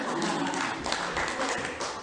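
Applause for a team of trainees at an organisational training session in an Islamic boarding school, a dense, steady patter of many hands clapping together for about two seconds, with a few voices mixed in.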